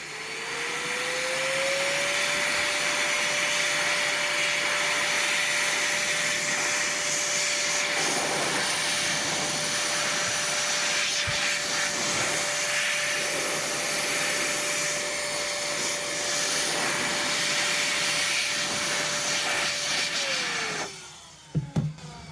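Electric air duster blows soapy water out of the grooves of a GameCube game disc, a loud steady high-pitched whine that ramps up, holds for about twenty seconds with hissing spray, then winds down, followed by a few clicks.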